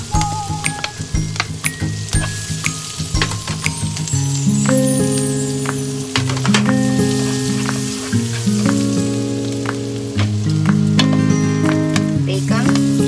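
Garlic frying in olive oil and butter, loud close sizzling and crackling that runs throughout, with a bright clatter of a utensil against the pan and musical tones sounding over it.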